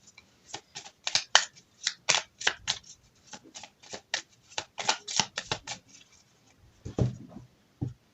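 Cartomancy cards are shuffled and drawn, seven in all, as a rapid run of crisp papery flicks and slaps, close and fairly quiet, with brief pauses between bursts and no talking.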